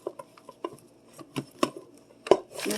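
Ground beef being broken up in a Dutch oven with a utensil, heard as scattered close scraping and tapping strikes against the pot, irregular and sparse, with a louder clatter near the end followed by a sizzling rush.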